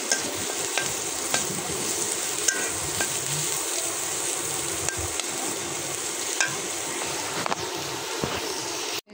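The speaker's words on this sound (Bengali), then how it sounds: "যে ইলিশ মাছ বসাই দিলাম," Hilsa fish sizzles steadily in a hot frying pan, a dense, even crackle with occasional louder pops and stirring clinks, close and continuous with no talk.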